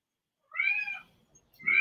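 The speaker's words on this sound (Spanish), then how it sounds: "Mira, mi gato también lo dice." A pet cat gives two close, clear meows, the first drawn out and the second starting just as the clip ends, in an otherwise quiet indoor setting during a book presentation and debate.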